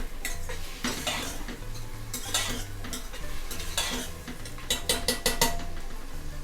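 A spoon scrapes and clanks around a cooking pot as crushed garlic and vegetables are stirred for one-pot sambhar, with soft sizzling under repeated metallic knocks that grow busier toward the end.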